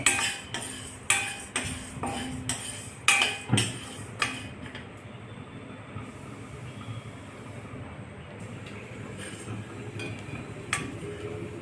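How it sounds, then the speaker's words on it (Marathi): Sago pearls dry-roasted in a pan and stirred with a metal spoon, giving a series of sharp scraping clinks and taps in an irregular rhythm, loud at first and then settling into a faint rustle. "आता आपण साबुदाणा भाजून घेणे. साबुदाणा सुद्धा छान खरपूस भाजून घेणे"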